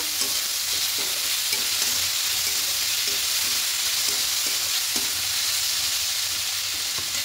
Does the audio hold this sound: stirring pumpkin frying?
yes